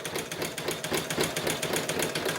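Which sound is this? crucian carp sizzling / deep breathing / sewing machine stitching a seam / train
sewing machine stitching a seam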